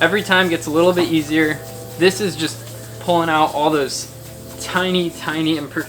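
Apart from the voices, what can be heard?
No distinct noise like a dog, phone or traffic.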